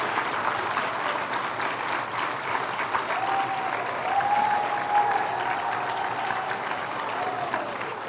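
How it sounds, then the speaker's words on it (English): An awards-event audience gives sustained applause at a moderate level, with many hands clapping into a dense, even wash and brief faint tones near the middle. "Can we please give this great group a round of applause?"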